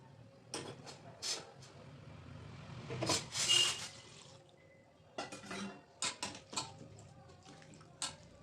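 Cauliflower florets being washed in a pot of hot water with a little salt for paratha, with intermittent splashing, sloshing and clinking of the vessel, close by and moderately loud.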